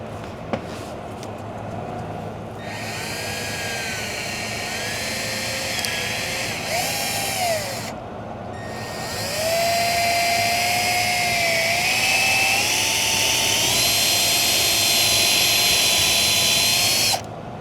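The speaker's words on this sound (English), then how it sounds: "Next size bit going in." A drill bores out a broken EGR bolt on a Ford 6.7 diesel engine, whining up and down in pitch in several close bursts with short pauses, grinding and squealing louder in the last stretch.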